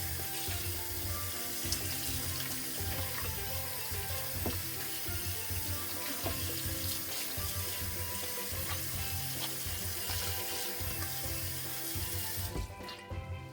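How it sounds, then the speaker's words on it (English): Raw turkey being washed under ice-cold running water in a kitchen sink while preparing Jamaican-style jerk turkey; a steady, close rush of tap water with scrubbing runs throughout, no talking. "Rub it and scrub it in ice cold water."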